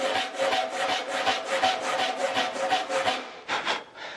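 A hand saw cuts through rough-sawn lumber in steady, rhythmic back-and-forth strokes, close and loud, each stroke a rasping scrape, with a brief pause and a couple of final strokes near the end.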